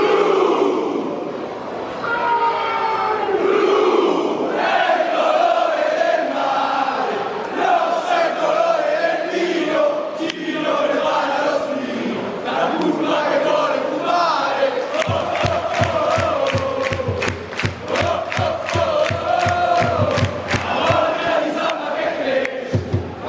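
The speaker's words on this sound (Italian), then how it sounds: "E con il triplice fischio ascoltare quel coro che ogni tanto ho pure cantato in cameretta" Sambenedettese football fans chant loudly together in a stadium after the final whistle, a roaring massed chorus that later turns into rhythmic clapping in time.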